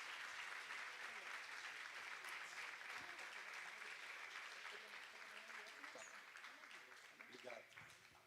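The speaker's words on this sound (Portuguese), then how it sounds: "Aplauda ao Senhor," Church congregation clapping during a worship service, a steady wash of applause that is very faint and distant, gradually fading toward the end, with voices mixed in.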